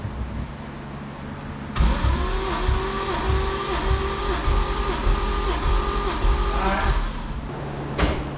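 The 1JZ engine of a Toyota MK3 Supra cranks on the starter during a compression test, a loud, close, steady whir with evenly spaced rhythmic pulses lasting several seconds before cutting off.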